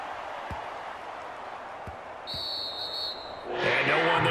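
A punted football bouncing on the field in Madden 23, Cowboys at Jaguars: three soft, low thuds spaced apart over steady stadium crowd noise, which swells near the end with a thin whistle-like tone.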